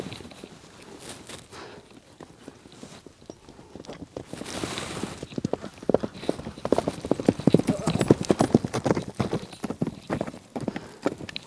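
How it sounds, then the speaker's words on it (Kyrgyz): Horses for sale, among them a dark one with a white blaze and two young colts, run over open ground. Their hooves give a steady, rapid clip-clop that grows louder as they near, while someone talks over it. "Мына чуркаганы дагы жакшы ат экен"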